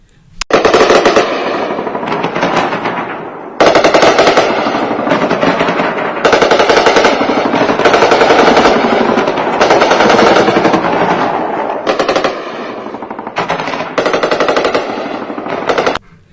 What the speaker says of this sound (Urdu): یہ کشمیر بارڈر پر بھارتی فوج کی طرف سے شدید فائرنگ کی جا رہی ہے